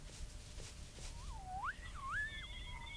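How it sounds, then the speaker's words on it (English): A strange, wavering whistle drifts from a polar station in a 1994 animated film, rising and falling in looping glides over a faint hiss and soft background sounds. "He didn't know where he was until he heard a strange whistle."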